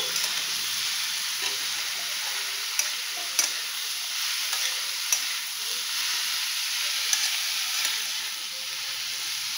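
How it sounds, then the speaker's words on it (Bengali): A pan of fish-head ash gourd curry (ilish head with chal kumro) sizzles and hisses steadily while being stirred, with occasional light scraping clicks of the spoon against the pan, close up. "এটাকে ভালো করে নাড়িয়ে দেবো।"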